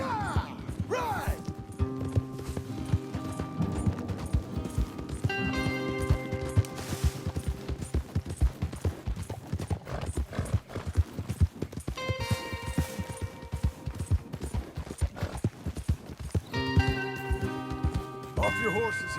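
Horses galloping in Red Dead Redemption 2, a continuous rhythmic clatter of hooves under frequent character dialogue and bursts of game music throughout.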